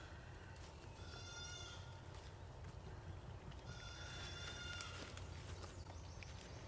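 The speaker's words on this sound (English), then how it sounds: "These are some happy goats right here." Faint goats bleating outdoors, a couple of wavering calls heard at a distance over a steady background hiss.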